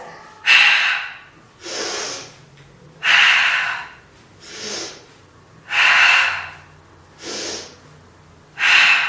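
Steady in-and-out breathing during a floor Pilates workout: six loud, close breaths alternating between longer inhales and shorter exhales, each a breathy rush separated by brief quiet pauses.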